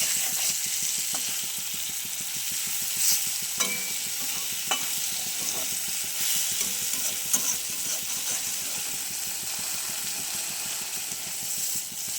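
Mustard-poppy paste ground with green chillies sizzling in a pan, a continuous close frying hiss with scattered stirring scrapes and light clinks, fairly quiet and steady, no voices.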